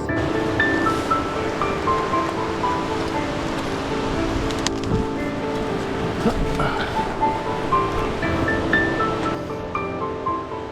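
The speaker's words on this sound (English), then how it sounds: "We're supposed to be crossing this little river right here, but as you can see, it's moving." A fast-flowing little river in the remote Montana alpine rushes in a loud, steady broadband roar that fills the whole stretch without letup, with a few faint knocks and wind-like hiss mixed in.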